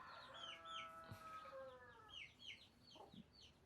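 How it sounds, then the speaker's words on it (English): A rooster crows with a long, drawn-out call while hens and fowl cluck around it in short, chirpy bursts, close and fairly loud, with no talking. "Rooster is coming back."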